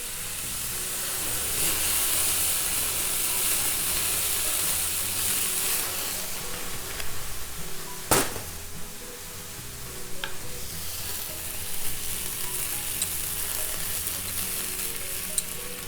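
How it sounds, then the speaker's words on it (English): A browned pan deglazed with white wine gives a continuous loud hiss and sizzle that eases off, with one sharp clank of a utensil partway through and no voices. "We do not want that to burn, so we'll deglaze with our white wine."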